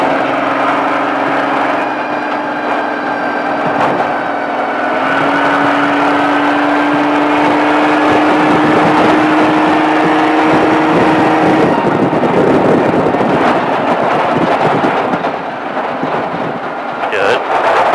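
An exotic car at Speed Vegas pulls hard along the track, its engine a loud, continuous roar whose pitch rises steadily for about twelve seconds before easing into a rougher, broader rumble.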